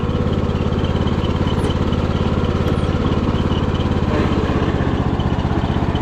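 A Kohler Courage lawn mower engine with a cracked engine idles at a steady, even putter, loud and close, with no change in speed throughout.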